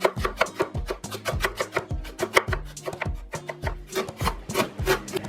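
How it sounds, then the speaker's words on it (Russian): Steady rhythmic knife strokes slicing through crisp cabbage on a wooden board, close and evenly paced, about two cuts per second, no voices. "И также средними кусочками режу капусту"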